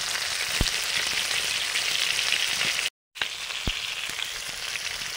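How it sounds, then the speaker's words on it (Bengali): Panch phoron and chopped onion fry in hot mustard oil, giving a steady, close, dense sizzle with a few sharp pops and clicks and a brief dropout midway, with no talking. "ফোড়ন দেবো ঘন্টে সরষের তেল, পাঁচ ফোড়ন, পেঁয়াজ কুচি"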